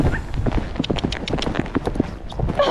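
Hoofbeats of a mare cantering during cross-country schooling, a quick continuous clip-clop rhythm on open ground with close wind and movement noise and no talk.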